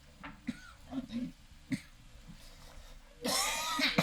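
A few coughs and throat-clearing sounds, close to a podcast microphone, scattered through quiet background talk before a louder, noisier burst at the end.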